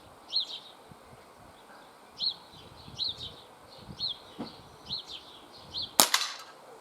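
Six sharp, fairly quiet pops at roughly even intervals come from a CO2 revolver with a 2.5-inch rifled barrel, shot single action at a 10-metre target. A louder crack ends the run.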